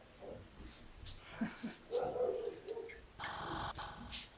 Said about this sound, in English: Neighborhood dogs